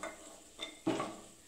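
Cooked carrot halwa is scooped from a pan onto a plate: two soft scraping strokes of a utensil against the pan, quiet and close, the second firmer and longer.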